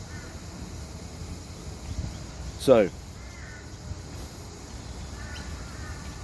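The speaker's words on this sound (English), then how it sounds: "I hear the birds" Crows cawing outdoors in a backyard, one louder nearer call standing out briefly amid faint distant caws and a steady breezy background, with a voice speaking briefly.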